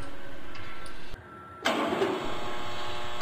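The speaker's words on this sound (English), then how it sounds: "This is a Timesaver centrifugal barrel finishing machine." A Timesaver centrifugal barrel finishing machine runs with a steady mechanical hum, cuts out briefly, then resumes louder with a broad grinding rush.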